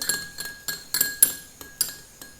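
A spoon clinks repeatedly against a bowl while rose extract and glycerine are mixed together for a homemade face cream, giving about eight sharp, close taps in a steady rhythm with no talking.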